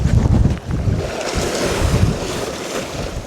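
Strong gale on the coast of the Isle of Skye, Scotland, a loud continuous roar of wind buffeting the microphone with deep rumbling gusts and no talk.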